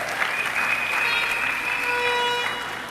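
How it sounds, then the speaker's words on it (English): An audience at a 2023 candidate launch event in a hall breaks into sustained applause, a dense wash of many hands clapping steadily for about three seconds, with a few faint tonal sounds in the background. "Give him a round of applause, Derek Walcott."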